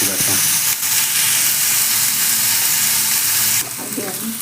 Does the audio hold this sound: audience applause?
no